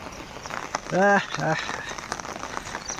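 Heavy rain pours as runoff streams past, a steady hiss interrupted by a short tonal voice-like burst partway through.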